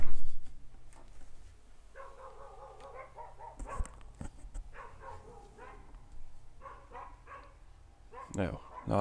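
Neighbours' dogs bark repeatedly at a distance, in irregular bursts of yips and barks over steady background noise, louder near the end.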